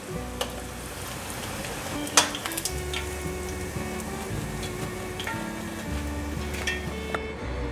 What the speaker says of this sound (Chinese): 油热了，放进来炸。